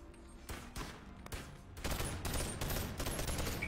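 Gunfire in the VR game BONELAB, a burst of rapid shots that starts sparse and becomes a dense, loud volley in the second half, with no talking over it.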